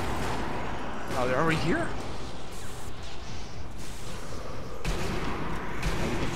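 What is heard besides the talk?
gunfire from a pistol in Sniper Elite V2 Nazi Zombie Army video game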